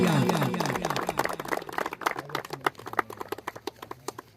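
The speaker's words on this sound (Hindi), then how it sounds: "एक बार नरेंद्र भाई के लिए जोरदार तालियां" A crowd at a hill-village cricket match claps for a young local leader: dense clapping builds beneath an announcer's voice, then thins into scattered, separate claps that fade out.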